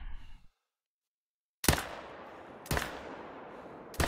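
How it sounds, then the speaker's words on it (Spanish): Hunting rifle gunshots in theHunter: Call of the Wild, with three sharp, loud cracks spaced about a second apart, each trailing off in a long echo, after a brief murmur and a moment of silence. "¿Me has esquivado el disparo?"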